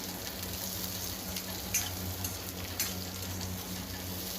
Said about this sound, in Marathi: थोडे काजू घालायचे, लाल बेडगी मिरची घालायची, कश्मीरी लाल मिरची चांगलं परतून घ्यायचं